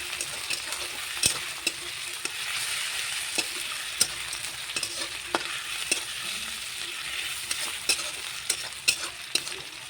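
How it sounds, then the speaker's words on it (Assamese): Crushed ginger-garlic fries in hot oil for a curry, with a continuous close sizzle and sharp, irregular clicks and scrapes of a spoon stirring against the pan, and no voices. "ইয়াতে খুন্দি থোৱা আদা নহৰুখিনিও দি দিছো তাৰ পাছতে এইখিনি কেঁচা গোন্ধ যোৱালৈকে ভাজি ল'ম"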